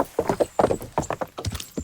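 Horse hooves clip-clopping at a steady trot in the medieval role-playing game Kingdom Come Deliverance, a close, rhythmic run of about a dozen hoof strikes with no one talking.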